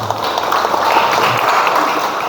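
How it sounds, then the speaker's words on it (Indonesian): A Christmas church gathering applauds a group of children, producing steady, dense clapping that fills the room at a fairly loud level, with faint voices mixed in beneath it. "tepuk tangan untuk anak-anak."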